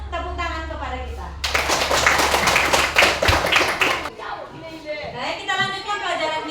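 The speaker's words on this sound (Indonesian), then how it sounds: "berikan dulu tepuk tangan kepada kita." Class of students clapping hands in an Islamic studies lesson, a burst of loud group clapping lasting a few seconds between stretches of a teacher and children talking.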